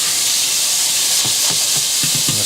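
Tofu sizzles in a pan of spaghetti meat sauce, a steady loud hiss and crackle throughout with light stirring knocks near the end.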